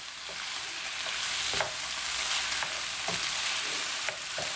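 Curry ingredients frying in a pan for a slow cooker curry, a constant dense sizzle with occasional light stirring taps, close and alone.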